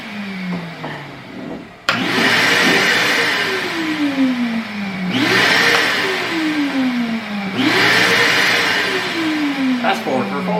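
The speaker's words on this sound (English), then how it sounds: "It's a vacuum." A vacuum cleaner switches on and runs, plugged into a newly wired outlet in a pole barn being converted into a house, its loud motor whine pulsing in repeated swelling cycles while people talk nearby.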